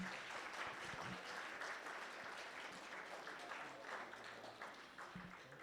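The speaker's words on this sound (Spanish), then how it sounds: "Claro que sí, un aplauso." Audience applause at a school presentation, a steady wash of clapping from a crowd, fairly quiet and distant, holding evenly for several seconds.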